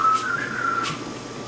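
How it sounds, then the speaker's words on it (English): Brief whistled tones from a person, close and moderately loud, sliding slightly in pitch over a soft background hiss, with no talking. "You whistle like a champion."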